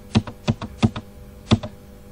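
Computer keyboard keys are pressed in a quick, uneven series of five or six crisp, close taps with brief pauses between them.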